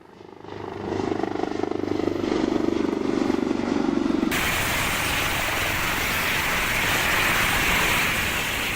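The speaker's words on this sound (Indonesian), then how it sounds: "Evakuasi jenazah pilot helikopter PT Intan Angkasa Air Service PKIWN Glenn Malcolm Koning dari distrik Alama ke Lanut Yohanes Kapiau dikawal 2 helikopter." Escort helicopters accompanying an evacuation flight from Alama district to Timika, a steady loud rotor and engine drone that grows sharply brighter and louder midway as an aircraft nears, sustained to the end.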